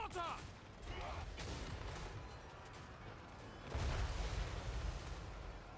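Mortar and hand-gunner fire in Total War Warhammer III during a wall defense against elves rumbles as distant layered booms and gunfire, with a heavier thud near the end, under a quiet voice.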